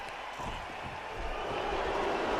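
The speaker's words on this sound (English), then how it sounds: "you hear the crowd going wild for that one" A wrestling crowd roars after a chop in an arena match, a loud, dense wash of cheering that swells slightly, with dull impacts and thuds mixed underneath.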